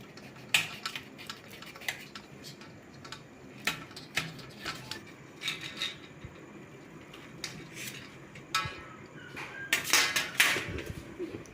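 A knife cutting a capsicum on a board for potato bajji, with scattered sharp taps and chops at uneven intervals, close and clear, and a cluster of louder knocks and clatter near the end.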